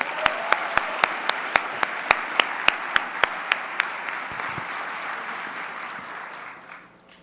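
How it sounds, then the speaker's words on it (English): Sustained crowd applause at a gala, with a few loud, evenly spaced claps standing out near the front, the clapping slowly fading away at the end. "Let's give them all a great round of applause."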